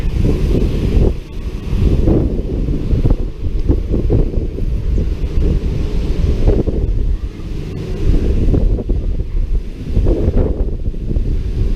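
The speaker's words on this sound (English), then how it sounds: "Just a lot of wind." Strong gusty wind from Typhoon Ulysses roars and buffets the microphone in Alaminos, a loud, continuous rumbling rush that swells and eases with the gusts, with no voices.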